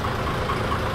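A forward boom truck with a 3-ton boom idles on its 6H1 inline diesel engine, giving a loud, close, steady rumble with a slight knocking texture during a brief moment.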